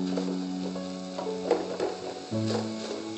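Koilar bhaji leaves with tomatoes cook in a pan over a medium flame, giving a soft, steady sizzle broken by occasional stirring scrapes, close and fairly quiet beneath a faint background hum.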